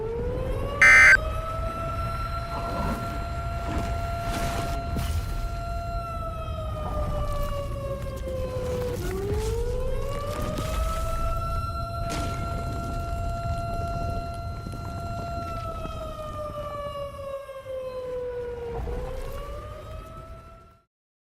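A civil defense tsunami warning siren wails slowly and steadily, its tone rising and falling in long sweeping cycles, sounding broad and somewhat distant.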